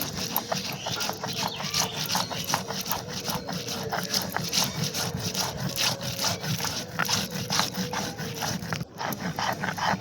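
Roasted whole coriander, cumin and radhuni are ground by hand into paste, a steady, close rhythmic rubbing and scraping of stone that continues without a break throughout.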